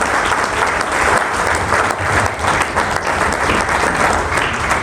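An audience claps loudly and steadily, a dense continuous wash of hands welcoming an honoured guest speaker onto the stage at an event.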